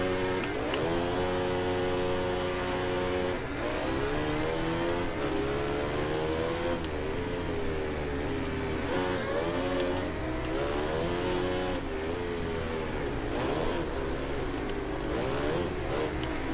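A 1198 cc Ducati 1098R-style superbike engine in the racing game Ride 2 revs and howls continuously, rising and falling through gear changes at a loud, close, sustained pitch for over sixteen seconds, with no talk.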